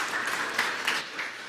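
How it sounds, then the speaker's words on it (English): A crowd applauding steadily throughout, a dense wash of clapping with a few louder swells, no voices standing out. "Big round of applause, please."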